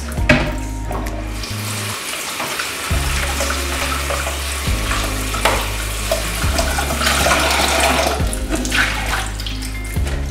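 Water runs and splashes continuously as dried hibiscus is swished and rinsed, with sloshing and clattering throughout.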